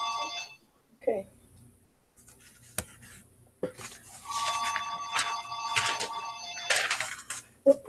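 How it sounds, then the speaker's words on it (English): A telephone rings indoors with a repeated electronic ringtone, sustained bursts in the second half, moderately loud, alongside light scratching sounds. "I muted the phone and I don't know why it's ringing"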